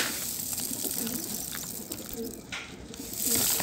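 Pigeons in a pigeon loft coo and call continuously throughout, a steady low murmur of birds close by with no talking.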